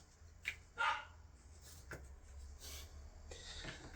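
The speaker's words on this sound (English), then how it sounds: "she doesn't know how loud she barks anymore" A dog in a home workshop gives a few short barks, the clearest bursts near the start, fairly close and alone with no talk, over a faint low hum.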